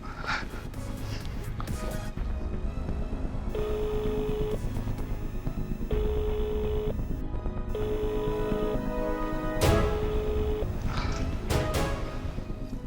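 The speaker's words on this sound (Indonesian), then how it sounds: "Saya coba telepon Talia dulu" A telephone call rings out unanswered: a repeating ring-back tone in regular on-off bursts, heard under a steady background bed of drama music.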